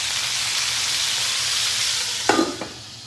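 Marinated chicken, potatoes and onions fry in a pan with a steady, close sizzle, followed by a couple of brief stirring clatters near the end.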